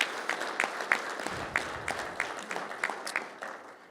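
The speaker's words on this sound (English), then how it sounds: "So let's give them a round of applause." Audience applause at an annual meeting, a steady wash of clapping with distinct sharp claps standing out in an uneven rhythm, moderately close and fading slightly toward the end.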